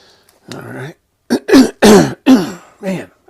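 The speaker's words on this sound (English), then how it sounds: "I keep having to clear my throat" A man clears his throat several times in quick rough bursts, close and loud, with short pauses between each harsh rasp.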